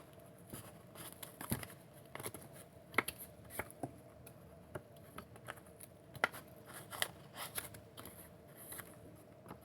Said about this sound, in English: if your scissors are sharp, you can cut it usually in one pass